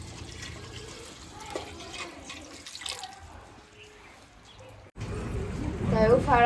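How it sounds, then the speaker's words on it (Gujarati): Water is poured into a pot of Kathiyawadi masala veg pulao already holding potatoes and peas; a steady, loud rushing splash swells in the final seconds after quieter kitchen sounds. "તો હવે આપણે પાણી નાખી દઈશું."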